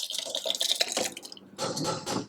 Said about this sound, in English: what we're going to do is transfer the contents of the saucepan into the blender